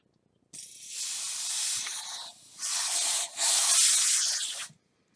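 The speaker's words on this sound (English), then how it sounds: "So what I'm going to do is I'm going to drop it. And I'm going to spray it." Canned air sprays onto alcohol ink in three close, loud hissing bursts separated by brief pauses, with nothing else heard.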